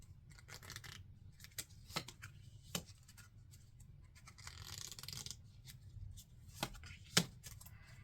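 Tarot cards are shuffled and drawn by hand in a quiet room, giving soft rustling punctuated by a few sharp card snaps and flicks.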